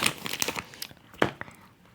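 A package of Roshen Yummi Gummi candies is torn open with close, crisp crinkling and tearing bursts, busy at first and then tapering to a few sharper rips.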